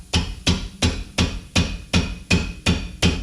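Rhythmic rattle from the rear brake caliper or pads of a Chevy Colorado, nine evenly spaced sharp metallic knocks close and loud at a steady beat; no talking.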